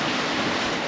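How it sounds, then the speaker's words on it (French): Crosswise waves and a strong crosswind beat against a sailboat during a night watch on an ocean crossing. They form a loud, continuous rush of surf and wind noise close around the boat. "On a les vagues de travers et le vent de travers qui est quand même pas mal soutenu"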